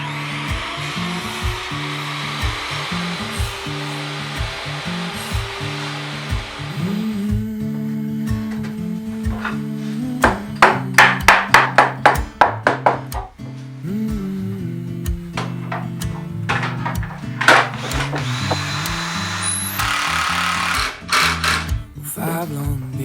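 A power tool cuts notches into wooden workbench pieces, with a bursty series of sharp cutting passes mid-clip over a steady hum, while music plays throughout.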